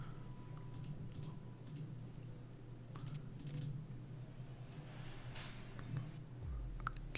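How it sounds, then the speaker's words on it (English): Soft, steady keyboard typing runs through a hacking video game's background, a continuous patter of quiet clicks over a low hum with faint rain, and no talking. "I love the background typing sounds."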